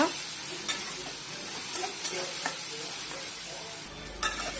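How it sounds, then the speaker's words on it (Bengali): Onion fries in hot oil with fried potatoes in a home kitchen, giving a soft, steady sizzle. Light scraping clicks from stirring punctuate it now and then, and the whole thing is fairly quiet and close. "পেঁয়াজ দিয়ে দেবো এটাকে এক মিনিট একটু ভালো করে আমি ভেজে নেব"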